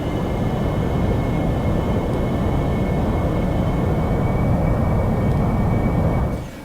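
An AV-8B Harrier jet takes off in the DCS World flight simulator: a steady, loud, broadband engine roar with a thin high whine. It holds constant throughout and tapers slightly at the very end, with no talking.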